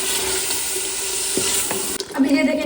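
Peas tipped into frying chicken curry and stirred, a steady close sizzle with scraping stirs and a brief clatter as they go in near the end.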